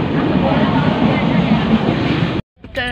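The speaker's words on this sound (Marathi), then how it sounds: "आता आम्ही ठाण्याच्या ट्रेनमध्ये बसलो आहे" Riding inside a moving local train headed for Thane, a loud continuous rumble and rattle of the carriage fills the air before cutting out abruptly near the end.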